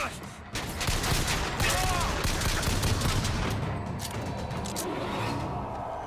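Gunfire in BioShock Infinite, loud sustained bursts of shots and impacts with game noise, continuous from about half a second on, with faint talk mixed in.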